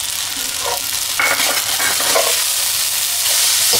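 Pasta being stirred in a pan with salt, red chili powder and garam masala, giving a steady hiss of frying with soft scraping strokes, close and continuous, with no talking.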